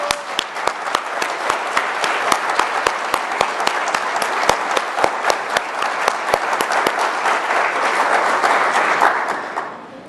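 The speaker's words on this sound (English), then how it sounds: "can I ask you really to give a loud round of applause to Asefa and his team for this report" A large audience at a formal report launch gives a sustained, dense round of applause, loud and continuous with sharp individual claps throughout, fading out at the very end.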